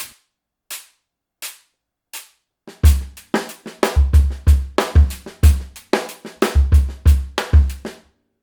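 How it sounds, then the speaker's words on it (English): A drum groove of punchy kick and snare hits in a steady rhythm with snare ghost notes, opening with a few sparse light taps before the full beat kicks in. "Sometimes you might want to play a ghost note on the snare drum."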